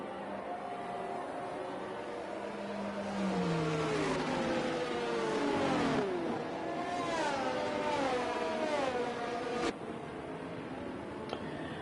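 A racing game's safety car lapping the 5.2 kilometer Abu Dhabi track, its engine note rising and falling through gear changes in a steady, moderately loud whine, with no talk over it.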